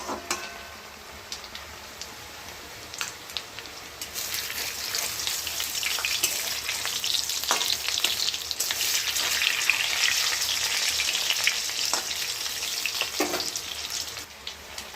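Aloo posto, potatoes with poppy seeds, frying in a pan, a steady hissing sizzle that swells after a few seconds and stays fairly loud, with occasional clicks of stirring and no talk.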